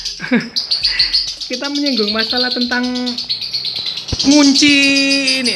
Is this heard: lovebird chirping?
yes